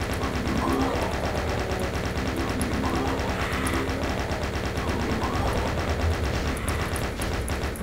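Rapid gunfire from a Doom map, a steady stream of shots running the whole time over loud, dense game sound with a busy mechanical texture.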